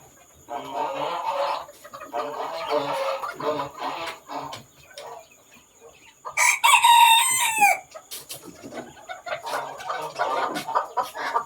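Bantam chickens in Khon Kaen, Thailand, at night: close, busy clucking and chattering throughout, broken midway by one loud, drawn-out crow before the clucking resumes.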